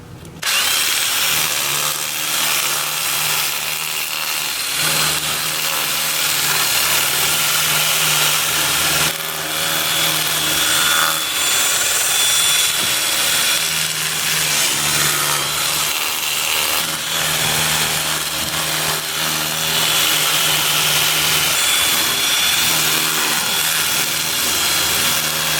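A steady, continuous whirring with an abrasive hiss as sandpaper is pressed against tea tree wood spinning on a lathe, holding at an even level throughout.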